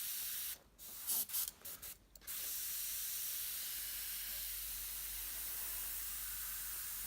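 Airbrush spraying paint to fill in a drawn rectangle, heard as a steady near hiss of air through the nozzle with a few brief breaks and bursts early on before running continuously.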